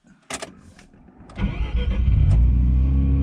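A sports car engine, a Mazda RX-7 or Porsche 993, cranks and fires up, with a couple of clicks before it catches and settles into a loud, close, steady rumble.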